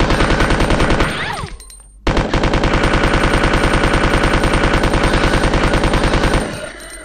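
Rapid automatic gunfire in Resident Evil 2 rattles in long sustained bursts, loud and close, broken by a brief pause near the middle before the shooting resumes and then stops abruptly.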